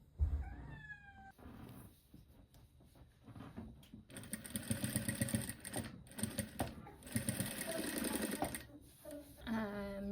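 A sewing machine stitches fabric for a stuffed toy, a steady loud whirring run of stitching broken by short pauses, with a cat meowing early on.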